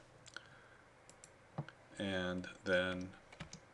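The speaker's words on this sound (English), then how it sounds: "click on Open or select Open and hit the Enter key" A few light computer keyboard key clicks tap near and sparse, interrupted by a short stretch of speech.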